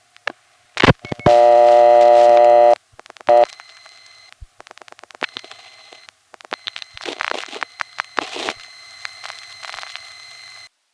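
Telephone call routed through a 1970s Bronx panel switching office and a crossbar tandem: a loud steady harmonic tone, then a string of clicks, relay chatter and short tonal bursts from the switching gear, with no talking.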